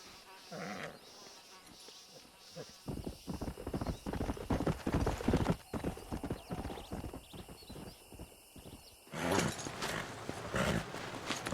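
Horse hooves clip-clop in the Red Dead Redemption video game in a steady, close rhythm with snorts and a whinny, over a quiet outdoor ambience, then a louder rush near the end.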